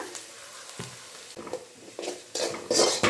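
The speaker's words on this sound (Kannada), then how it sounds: "ಈರುಳ್ಳಿ ಚೆನ್ನಾಗೆ ಫ್ರೈ ಆಗಿದೆ ನೋಡ್ಬೋದು ಈರುಳ್ಳಿ ಬಣ್ಣನೂ ಚೇಂಜ್ ಆಗ್ತಿದೆ" Onions fry in a pan for tomato kurma, a soft sizzle under intermittent scraping strokes of a spoon stirring, the scrapes growing louder and more frequent toward the end.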